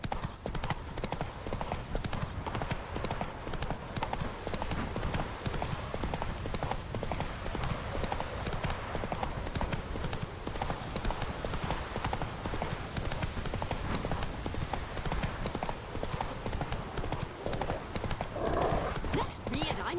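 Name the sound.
horse galloping hooves, from a video game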